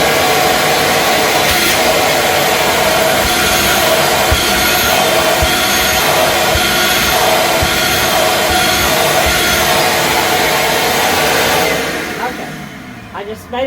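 A shop vac roars with a loud, steady whine while cleaning the bedroom of an RV camper. It holds at one level for about twelve seconds, then winds down and cuts off near the end.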